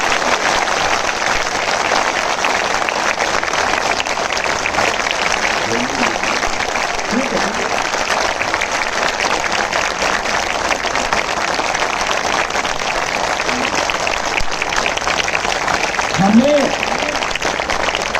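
Sustained applause from a large audience welcoming a speaker at a public event, steady and loud throughout, with a voice faintly heard beneath it near the end.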